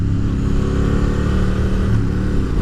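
Aprilia Caponord motorcycle being ridden, its engine droning loud and steady at a constant pitch throughout with a rough mechanical texture, close-up and with no voices.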